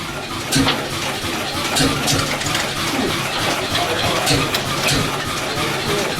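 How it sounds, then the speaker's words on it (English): Water fed from an outside trough gushes steadily from a tap, a close, even splashing rush that continues throughout. "I'll turn the water on back here."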